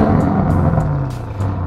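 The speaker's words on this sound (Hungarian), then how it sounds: "Ha már itt van velünk egy 600 lóerős szörnyeteg egy V8-assal, annak minden bizonnyal van hangja is." Audi RS6 C8 with a 600-horsepower V8 runs in a steady low rumble with faint rhythmic exhaust pulses, fairly loud and close, with no talking.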